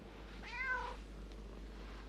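A cat gives one short, clear meow against a quiet room background, with no talking.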